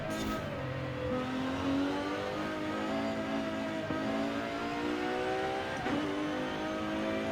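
A race car in a Forza Horizon 5 version of the Goodwood Festival of Speed hillclimb revs and accelerates through gears, engine pitch climbing and dropping in several sweeps, heard quietly and alone.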